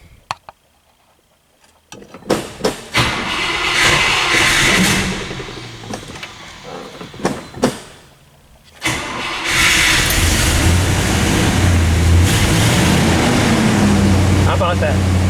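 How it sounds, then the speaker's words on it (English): A 1960 Chrysler 300F engine cranks in bursts, then catches and settles into a loud, steady idle close by. "Well, let's see what cranking will do for us."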